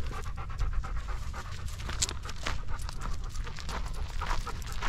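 A small dog pants rapidly and steadily close by on a hillside hike near a quarry, with a continuous rhythmic huffing and scuffling throughout.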